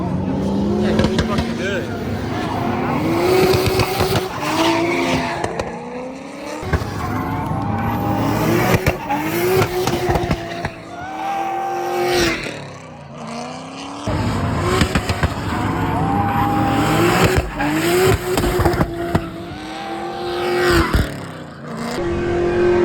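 Drift-modified Nissan S14 with a 2JZ engine running its first laps of the day on track, engine revving and rising and falling loudly throughout with tire squeal bursts, people talking over it.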